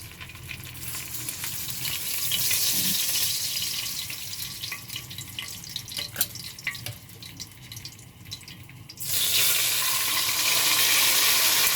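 Food frying in a pan until toasted in a home kitchen, with a loud continuous sizzle and occasional stirring scrapes, easing slightly midway and then surging back to a strong, steady hiss near the end.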